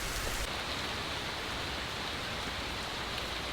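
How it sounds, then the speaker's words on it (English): Heavy rain pours down at a creek, a loud, steady hiss of drops hitting water and surfaces that fills the whole stretch without a break and with no voices. "It wasn't supposed to rain for hours."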